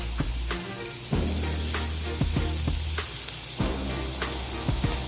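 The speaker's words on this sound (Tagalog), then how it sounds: "Fry our pork to make it a bit of crunchy." Pork frying in a pan for stir-fried yakisoba noodles: a loud, steady sizzle with a hissing wash, broken by repeated clicks and knocks of tongs stirring the meat.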